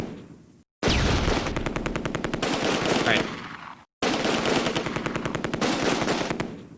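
Gunfire in the Close Combat: A Bridge Too Far video game comes in long, loud bursts of rapid machine-gun fire, broken by two short silent gaps.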